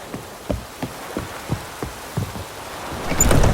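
Rain falls in the game The Witcher 3: Wild Hunt, with scattered drops pattering at an uneven rhythm over a soft background wash that swells louder near the end.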